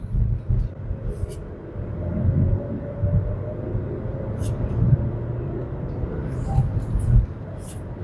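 Steady low road rumble and engine drone inside a 2026 Renault Duster with a 1.3L turbo petrol engine driven at high speed, swelling slightly at moments, with no talking.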